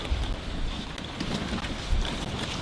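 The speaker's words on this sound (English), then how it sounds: "I'm in the wind here, so hopefully it's not too windy." Wind buffets a microphone on the bank of the Burnett River, a loud, gusty rumble with low thumps that rise and fall across the short stretch, with no talking.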